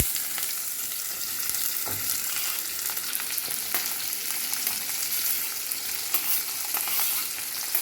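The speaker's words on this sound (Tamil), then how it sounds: "எண்ணெய் காஞ்ச பிறகு நம்ம ஜீரகமும் சோம்பும் போட்டு லைட்டாக பொரிஞ்ச பிறகு நம்ம இப்போ ஆனியன் போட்டுடலாங்க" Sliced onions frying in hot oil with cumin and fennel seeds, giving a continuous, dense close sizzle with occasional stirring scrapes and no talking.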